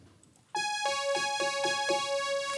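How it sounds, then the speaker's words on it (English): Bright, high-pitched synthesized violin line from the chorus of a well-known song, with sustained harmonic notes entering suddenly and stepping through a short rhythmic phrase, alone and steady in level. "let's do the last violin that only appears on the chorus and sounds like this"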